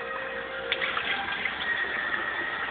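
Steady running water rinses out the body cavity of a field-dressed grouse, a constant close splashing hiss with small gurgles throughout.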